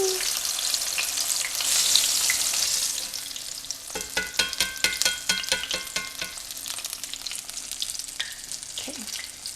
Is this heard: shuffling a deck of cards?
no